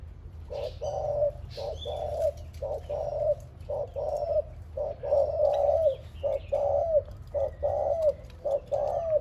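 An old decoy dove coos in a steady series of short, repeated calls, close and clear over a low background rumble, with a few faint chirps from other birds.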